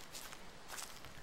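Footsteps walking through a dark forest in the horror video game Slender, soft, steady and close, with faint rustling and no talk.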